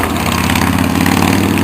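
A motorcycle engine runs close and loud, a continuous rumbling drone with a slight throb and no break across the short stretch.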